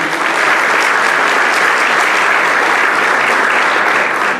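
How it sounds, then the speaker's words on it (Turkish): Audience applause at a ball marking the Turkish Republic's 100th anniversary, a dense, steady wash of many hands clapping, loud and close, sustained without a break and with no voices over it. "kocaman bir alkış rica ediyorum"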